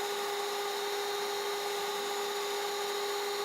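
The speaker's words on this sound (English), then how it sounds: "Like those holes there that we're drilling are 2 millimeters across." A CNC end mill drills 2 mm holes in a light, porous foam, producing a steady, continuous high-pitched machine whine at constant loudness with no pauses.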